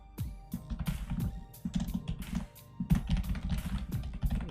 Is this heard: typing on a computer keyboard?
yes